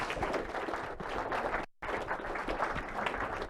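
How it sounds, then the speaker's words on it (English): A steady round of applause from an audience at a talk about the Mullion RNAS balloon site, dense sustained clapping filling the room, with a brief dropout partway through. "Shall we give him a round of applause?"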